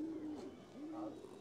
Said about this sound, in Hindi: डब वाला कबूतर, डब वाला कबूतर देखें आप